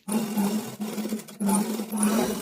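A sewing machine runs steadily while stitching a blouse from the wrong side, humming with a low motor drone, pausing briefly twice before resuming at close range.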